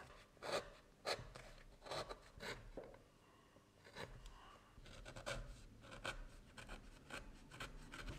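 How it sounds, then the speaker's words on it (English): A sharp blade trims excess leather on a journal cover, making soft scraping, rasping strokes in irregular bursts, close and fairly quiet, with no talking. "Let's just use a sharp blade and cut off the excess amount of leather so that all the edges line up quite nicely"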